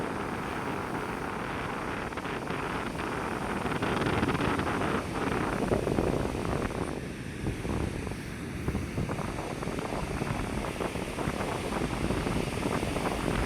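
A continuous roar of surf and wind, with big waves crashing and rumbling steadily, and no voices.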